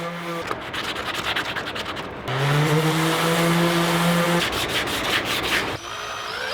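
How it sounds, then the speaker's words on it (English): Coarse rasping sanding against wood, steady and close, with a power sander's motor whining and shifting pitch as it runs. "Sanding was next to clean up rough edges prior to paint."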